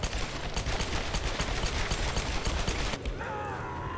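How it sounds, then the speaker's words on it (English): Lara Croft fires her dual pistols in Tomb Raider, a rapid steady stream of loud close gunshots for about three seconds that stops abruptly, leaving a softer ringing ambience. "Lara has her dual guns back and used it to shoot that guy up"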